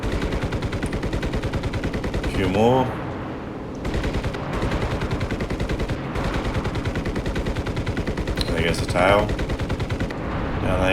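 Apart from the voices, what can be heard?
Spitfire 30mm cannon firing in Enlisted video game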